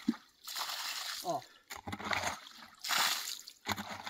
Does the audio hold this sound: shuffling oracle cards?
no